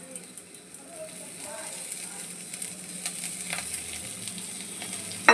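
Paneer masala tikki shallow-frying in a little oil and ghee, a soft steady sizzle with faint crackles throughout, one louder bump at the very end.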